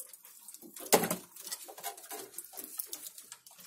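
White Madrasi pigeons coo softly amid fluttering and shuffling, with one sharp burst of wing noise early on and low throaty sounds scattered through the short stretch.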